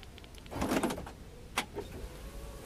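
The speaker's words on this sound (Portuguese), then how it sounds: "Vou travar o carro." A Chevrolet Meriva locking with its headlights left on: a short whirring motor burst followed by a sharp click and a fainter second click, heard alone at moderate distance.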